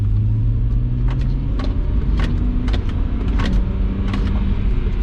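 A BMW 135i fitted with upgraded sway bars and bushings rolls over a speed table. The steady engine and road rumble is heard from inside the cabin, with a few faint knocks and clunks over the bump and no voices.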